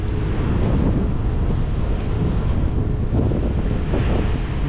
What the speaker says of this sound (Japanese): 波がかかる。